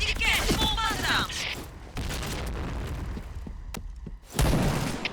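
A grenade detonates in the shooter game Point Blank amid loud, dense gunfire and booming, with a sharp fresh blast bursting out near the end over the constant battle noise.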